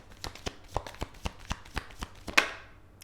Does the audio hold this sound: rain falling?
no